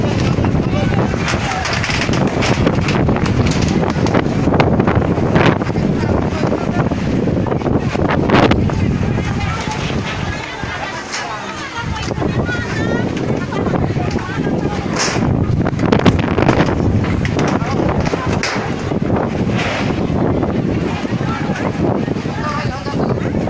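Strong wind gusts batter the canopy at an outdoor wedding reception, making loud, constant roaring buffeting across the microphone, with people talking amid the noise.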